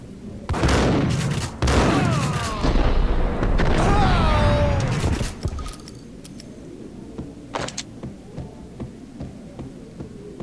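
Gunfire in a video game, loud bursts over shouting voices, then sparse sharp cracks and clicks trailing off more quietly toward the end.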